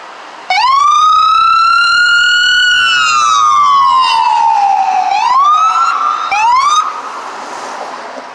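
A loud ambulance siren wails nearby during a street march in Chinatown, holding a long rising tone before sweeping down and back up, with no talking.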